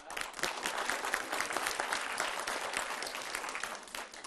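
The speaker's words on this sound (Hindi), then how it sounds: "तालियां।" A studio audience at a televised debate show breaks into brisk, dense applause, continuous clapping at moderate loudness, alone without speech.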